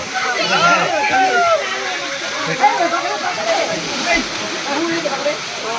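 A waterfall roars steadily in the background at Aluru Kona Ranganayaka Swamy temple while several people, including children bathing, chatter and shout over it.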